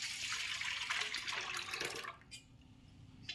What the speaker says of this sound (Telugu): సూప్ అందులో పోసుకొని